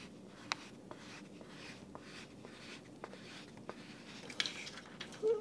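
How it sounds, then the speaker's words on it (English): Feel Write 2 screen film being peeled and pressed onto a reMarkable 2 tablet: quiet, close scratchy rubbing and soft papery friction with scattered light clicks and taps, faint and steady throughout. "So I'm peeling this bottom layer back as I'm pressing."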